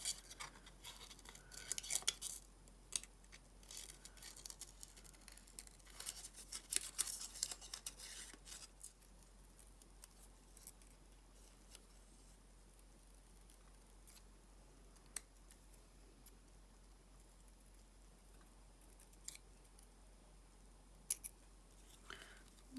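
Scissors snip paper petal shapes for a junk journal, quiet close crisp cuts in irregular bursts, busiest early on, with soft rustling between and a few late snips.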